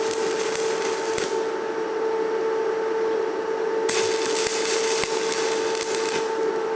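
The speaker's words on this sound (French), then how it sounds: "je fais une petite soudure" Stick welding with a 2.5 mm rod on a power-station supply, a steady crackling hiss with strong sustained tones that drops back briefly mid-run and then surges again, continuous and fairly loud with no talk.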